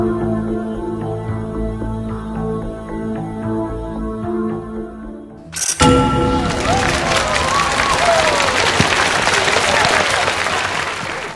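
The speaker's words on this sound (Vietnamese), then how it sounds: "Nhưng mà những tiếng vỗ tay cổ vũ cũng rất là lớn." Music plays for a few seconds, then a loud burst of audience clapping and cheering erupts on a Vietnamese TV game show set and continues strongly to the end.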